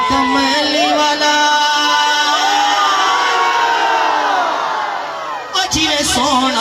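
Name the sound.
crowd chanting religious slogans at a naat gathering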